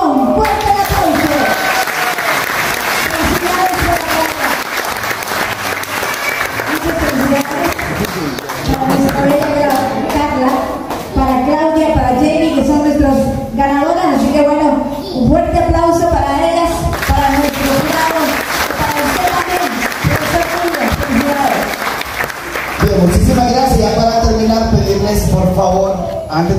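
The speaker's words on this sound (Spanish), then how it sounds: "¡Fuerte el aplauso!" Crowd at a school music project event in Santa Rosa de Copán applauding the first-place winner, loud, sustained clapping and cheering with a presenter talking over it and moments of voices and music between bursts.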